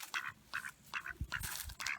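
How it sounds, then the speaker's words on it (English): A duck quacks at a pond in a series of short, nasal calls, about five bursts in two seconds with a faint rumble between them, close and clear with no talking. "This is a duck that stays in our pond, and then he comes up and lets us feed him."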